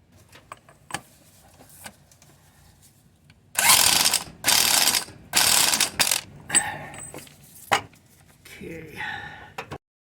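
A ratchet wrench removes the nut from the output shaft of a Mercedes 722.9 4Matic transfer case on a 2011 GLK 350, with several loud, rapid clicking bursts close up, then scattered clanks and light handling noise.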